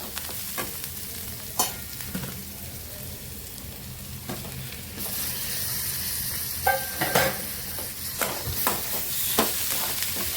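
Tomatoes sautéing in a pan with browned onion and spices, a steady sizzle broken by repeated scraping stirs of a utensil. It is heard close up with no talk, and the sizzle brightens partway through.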